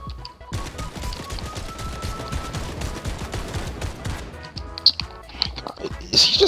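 Rapid automatic gunfire in the video game Fortnite, a long burst of close, loud shots in steady rhythm, ending with a few sharper isolated cracks.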